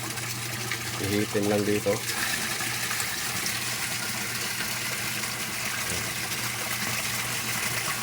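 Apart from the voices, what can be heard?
water pump aerating water, homemade oxygenator substitute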